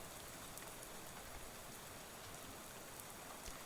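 Steady rain falls in the game Shadows Over Loathing, a continuous soft hiss of drops with no break, quiet and even from start to end.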